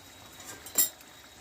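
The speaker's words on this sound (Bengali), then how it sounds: "দেখো ঢাকনাটা তুলে নেব আমি" A metal pot lid lifted off mutton cooking in a pot, giving one short clink near the middle, close and fairly faint, with quiet background before and after.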